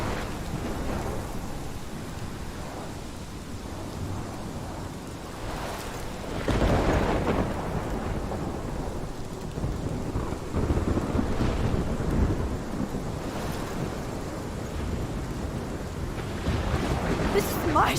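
Thunderstorm in Life is Strange: heavy steady rain with rolling rumbles of thunder swelling and fading over a long stretch, no voices.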